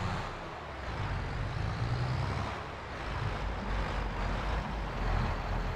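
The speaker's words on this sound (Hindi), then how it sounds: "ये पीछे बेल लोडर लगने के बाद थोड़ा सा जो है ट्रैक्टर कम मुड़ रहा है" In Farming Simulator 22, a small tractor hauling a rear bale loader drives along with a steady low engine drone, rising and falling slightly in loudness without pause.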